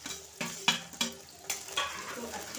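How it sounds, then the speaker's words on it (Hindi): Onions, green chilies and garlic fry and sizzle in a pan of hot oil with bay leaf and whole spices while being stirred, giving a steady crackle with several sharp scraping stir strokes, close and fairly soft, with no talking. "1 से 2 मिनट तक भून लेंगे।"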